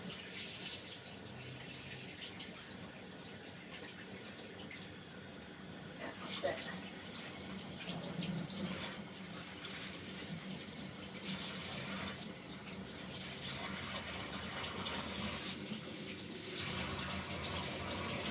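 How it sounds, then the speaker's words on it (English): Hot water runs steadily from a kitchen tap while something is rinsed under it before piping buttercream, a continuous splashing stream with a brief spoken remark over it. "I'm going to run this under the tap quickly. Get the hot water through it."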